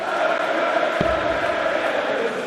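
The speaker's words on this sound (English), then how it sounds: "The crowd are imploring him to do better." A darts crowd at the PDC World Darts Championship urges Gary Anderson on, a steady, fairly loud murmur of massed voices with a brief thud partway through.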